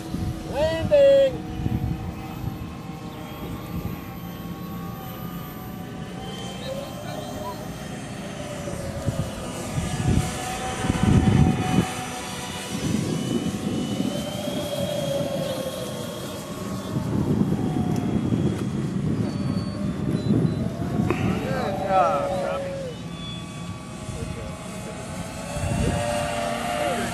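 A foam-and-tape scale model Boeing 777 comes in to land, its motor droning steadily and swelling at moments over a noisy outdoor backdrop, with people talking nearby.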